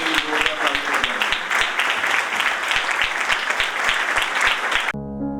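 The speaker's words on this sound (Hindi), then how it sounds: "खुदा के लिए जोरदार तालियां" Vigorous congregational applause at an Urdu Christian sermon, many hands clapping loudly and steadily for about five seconds before cutting off abruptly into a soft musical tone.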